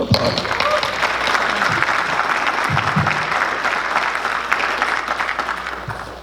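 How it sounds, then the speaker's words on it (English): Sustained audience applause fills a community meeting hall in Trenton, steady dense clapping that holds for several seconds before tapering slightly. "Please applaud."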